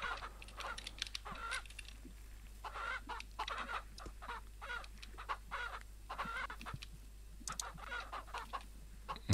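Chickens cluck and squawk in the farming game Ranch Simulator, a faint, busy flock with repeated short calls in irregular bursts over a steady low hum.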